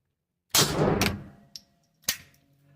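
A Glock pistol magazine drops free from an accidental press of the release button at a shooting range, a loud close metallic clang with ringing decay, then a small tap and a second sharp clank.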